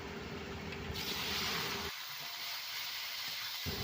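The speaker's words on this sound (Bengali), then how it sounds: "এই তেলে বেগুনটা ভেজে নেব লাল লাল করে।" Eggplant frying in hot oil in a home kitchen gives a continuous broad sizzle and hiss that holds steady throughout, close and fairly loud, with the low background dropping away partway through.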